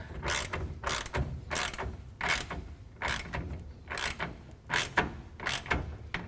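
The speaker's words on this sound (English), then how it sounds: "finish it off with a 9/16 ratchet." A 9/16 ratchet tightening a tonneau cover clamp on a 2011 Toyota Tundra bed rail, giving repeated clicking bursts in a steady stroke rhythm, close and fairly quiet.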